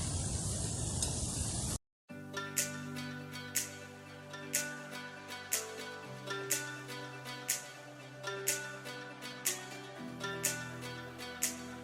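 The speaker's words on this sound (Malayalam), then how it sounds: "ഇത് നന്നായിട്ടൊന്ന് ഫ്രൈ ആയി വരട്ടെ." Jackfruit pieces frying in hot oil for crunchy chakka upperi: a close, steady hiss of sizzling for under two seconds that cuts off abruptly, then gives way to plucked melodic music with regular beats.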